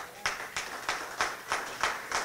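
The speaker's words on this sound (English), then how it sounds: "youths, you deserve a round of applause" Youths involved in disaster risk reduction are applauded with slow, evenly spaced claps. About seven distinct, moderately loud hand strikes land in a steady rhythm, with quiet gaps between them.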